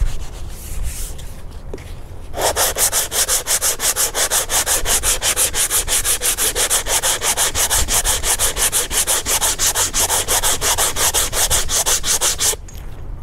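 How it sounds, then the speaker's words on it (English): Steady, continuous rasping of 80 grit sandpaper on a sanding block worked back and forth over a fiberglass dashboard repair, loud and close for about ten seconds with a rapid even stroke rhythm, then stopping abruptly; no talking. "Get us some sandpaper on our block. I'm using 80 grit"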